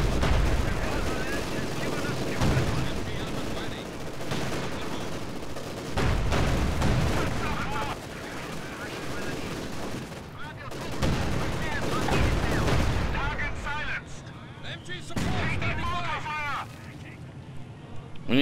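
Gunfire and artillery in the wartime strategy game Company of Heroes 2, with a howitzer and mortars in play, make a dense, continuous barrage of booming blasts and rattling shots. Players keep talking throughout over the loud battle noise.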